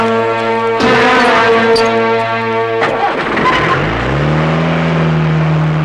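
A motor vehicle's engine revs loudly up close and pulls away, its droning pitch climbing and then shifting as it drives off.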